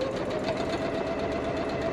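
A sewing machine stitches continuously through a quilt under repair, a close, steady mechanical whir and rapid needle chatter throughout.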